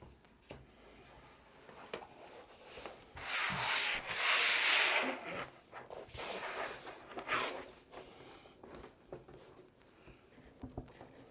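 A mouse pad being slid into place beneath an IKEA desk, giving soft rubbing and scuffing at close range that swells into a longer sustained scrape midway, then tapers to faint shuffling.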